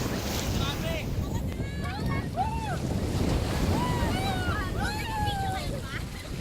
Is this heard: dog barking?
no